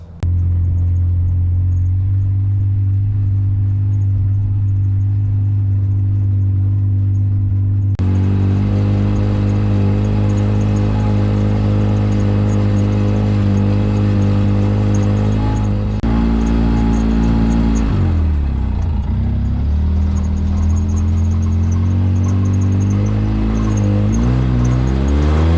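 Tractor engine droning steadily across a spring planting field as it heads back the opposite way, a close, loud mid-range rumble that shifts pitch and revs partway through.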